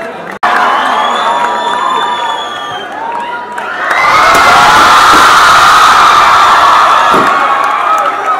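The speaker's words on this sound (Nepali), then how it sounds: "भव्य तालीले स्वागत गरोस् सरलाई।" At a school freshers' day, an audience welcomes the chief guest with loud cheering, shouting and whoops that swell into a roaring crowd, children's voices prominent, after a sharp thud at the start.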